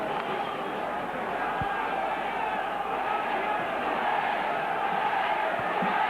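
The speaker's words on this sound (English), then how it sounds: "A great atmosphere here at the Willows. Near capacity crowd." Near capacity rugby league crowd at the Willows in a Salford v Wigan Challenge Cup tie, a steady broad roar of many voices filling the ground, with a few faint thumps under it.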